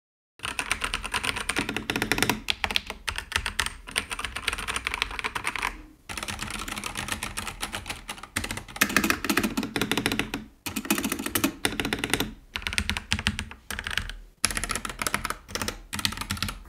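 Someone types on a budget Dexp OMNI quiet mechanical keyboard, producing fast, continuous key clatter in close bursts with a few short pauses.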